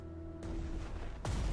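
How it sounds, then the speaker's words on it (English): Two heavy, booming bursts of gunfire in the strategy game Strategic Mind: The Pacific, with long rumbling tails, the first over a low steady hum. "Devastating gunfire."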